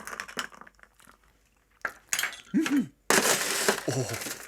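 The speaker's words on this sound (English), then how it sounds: "I'm just going to pop some cubes of ice in there just to start off with." Ice cubes dropped into a glass for a coconut rum cocktail, making a few sharp clinks and clatters in separate bursts, with a voice speaking between them.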